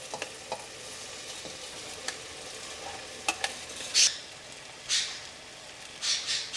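Rice added to chicken curry in a pressure cooker for biryani and stirred, with soft scraping, a gentle sizzle and a few brighter splashy clatters, close up, with no talking.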